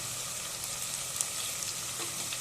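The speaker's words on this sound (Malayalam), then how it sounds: "പാവക്ക നന്നായിട്ട് ഫ്രൈ ആയിട്ട് വരണം" Bitter gourd frying in hot oil in a pan for pickle, giving a steady dense sizzle with faint crackles and a few soft stirring taps.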